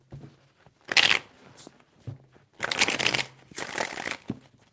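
Tarot cards are shuffled by hand in several short riffling bursts, close and crisp, separated by brief pauses.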